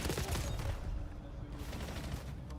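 Gunfire crackles through a Call of Duty Black Ops 7 esports match, a dense rapid burst of shots that fades into a softer, more distant rattle of scattered fire.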